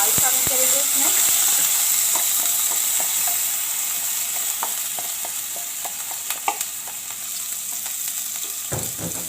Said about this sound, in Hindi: ज़ीरे को मैंने फ्राई करके अब हम दाल शामिल करेंगे उसमें